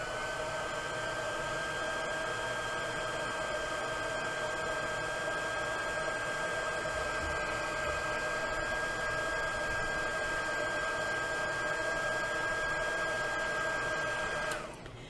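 A hair drying tool blows over a craft project held with rubber bands, making a close, constant motorized whir with a steady whine. It cuts off abruptly just before the end.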